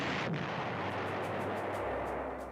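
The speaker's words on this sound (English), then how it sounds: "I think our strat bombers will go in and hit the entrenchments" Strategic bombers striking enemy entrenchments in the PlayStation 1 strategy game Panzer General, heard as a continuous rumbling barrage of explosions that stays loud and steady throughout.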